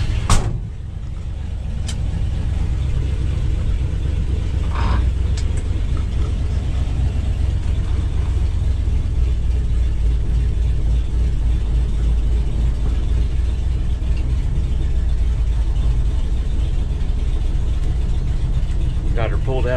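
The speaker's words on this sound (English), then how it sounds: "Get the manual choke pulled out. That fires right up." A 1969 Ford F-350 flatbed engine idles steadily and close by after a cold start with the manual choke pulled, a continuous low rumble running the whole time with a few faint mechanical clicks and a voice briefly near the start.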